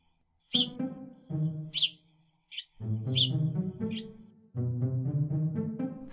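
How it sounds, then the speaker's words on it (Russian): Sparrows chirp in short, bright bursts, mixed with fuller tonal calls, in a clear and close series with brief pauses between them. "воробьи,"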